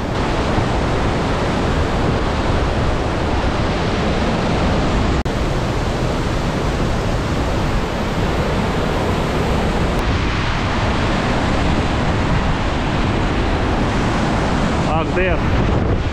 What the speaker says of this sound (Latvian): Tas ūdensritums tik spēcīgs, kad veidojas mākoņi.